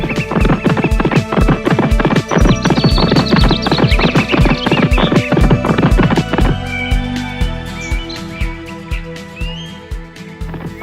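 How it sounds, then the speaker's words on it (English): Galloping horse in a children's animated story, hooves clip-clopping in a fast steady rhythm, loud and close over background music, slowing toward the end. "And so the horse started running."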